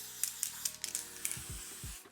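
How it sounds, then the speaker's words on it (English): Gold lustre spray hisses onto a coffee and walnut cake in a home kitchen, a steady broadband spray with a few short bursts, close and continuous, ending in some soft knocks. "To make mine gold, I'm going to use some of this gold spray."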